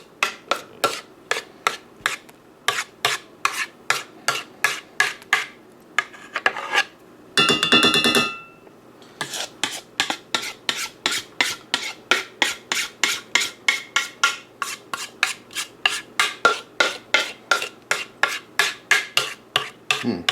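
A spatula scrapes thick cake batter for an upside-down peach skillet cake from a mixing bowl in quick, even rasping strokes, close and fairly loud, with one short harsher burst partway through and no talking.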